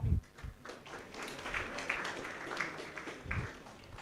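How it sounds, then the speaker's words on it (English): An audience at a university innovation week talk applauds, with a fairly faint, scattered round of clapping and a few louder nearby claps over room noise. "A round of applause again."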